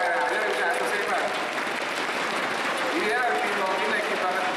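Audience at a League of Legends esports final applauding and cheering steadily throughout, with a voice talking over the crowd noise.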